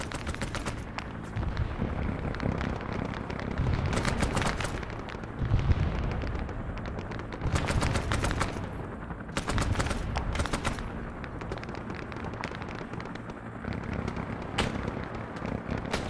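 Artillery shells explode in a repeated series of loud booming impacts, some close together in quick clusters, over a constant roar of background rumble with no speech.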